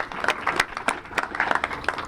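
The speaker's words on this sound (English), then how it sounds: "So give yourself a round of applause." Scattered clapping from a modest crowd at an outdoor community celebration marking ten years of reforesting Cleveland, with sharp uneven claps coming fairly close and in an irregular patter.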